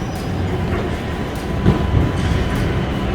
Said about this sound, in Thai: เดี๋ยวฮะรถรางมาแล้ว